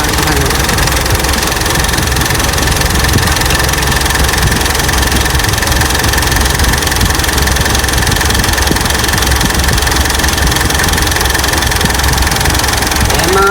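A 2013 Mitsubishi Montero Sport GLS engine idles steadily at close range, a continuous low rumble with a faint ticking texture that runs unchanged throughout.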